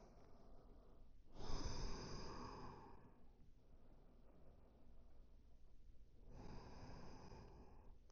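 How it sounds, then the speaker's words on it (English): Slow, deep breaths taken while resting in child's pose during a morning yoga flow: a long airy inhale swells, then eases into a quieter exhale before another breath begins, close and unhurried. "I'm going to take a few cycles of breath here."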